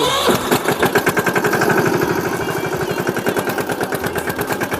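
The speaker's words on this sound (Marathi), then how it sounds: "कर चालू. जाऊ तो ट्रॅक्टर." A farm tractor engine cranks and catches, then settles into a loud, rapid, steady chugging idle close by, the even thudding pulses running continuously for several seconds with no talk over it.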